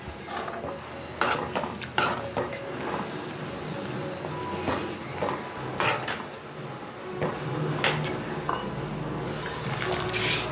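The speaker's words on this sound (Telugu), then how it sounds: "బాగా కలుపుకోవాలి." A spoon stirs sweet corn and capsicum curry in a pan after hot water is poured in, with scraping clinks and knocks against the pan and soft liquid sloshing, repeated at close range without talk.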